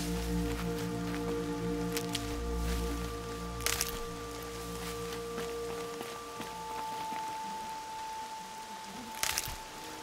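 Steady rain falling across a game world in Horizon Zero Dawn, a soft even hiss with a low ambient hum beneath and a couple of brief louder splashes, with no one speaking.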